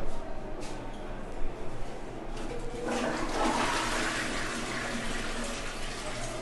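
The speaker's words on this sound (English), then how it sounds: "Flush." A toilet in a newly plumbed children's room flushes with a rushing swirl of water that starts partway through and keeps draining loudly to the end, after a few faint knocks and quiet background.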